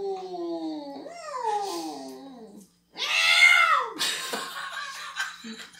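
A voice imitates a cat's meow with drawn-out falling wails, followed by a brighter squealing burst that sounds like laughter.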